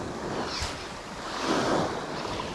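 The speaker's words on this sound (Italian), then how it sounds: "Oltre ad alzare tanta acqua, fa anche l'effetto bolla subacqueo e crea una grandissima scia." A Geppetto Lures Kaliboo 120 F popper fishing lure is worked across the water, giving a continuous splashing, gurgling wash mixed with wind noise, fairly loud, with no talking.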